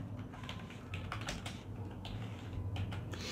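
Rapid keystrokes on a computer keyboard as a Google search is typed, a steady run of close, crisp clicks with brief pauses between bursts, no voices.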